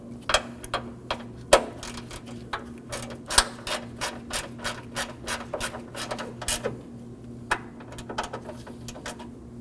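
A ratchet tightens a 10mm bolt on the radiator fan of a 2014-2020 Acura MDX, giving a steady run of sharp close clicks with short pauses, alone under a low hum.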